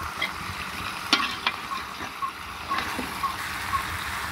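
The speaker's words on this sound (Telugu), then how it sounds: "ఆయిల్లో ఫ్రై అవుతున్నాయి చక్కగా లాగా" Fish frying in hot oil in a pan, a steady close sizzle with a few clanks and scrapes as the pieces are stirred.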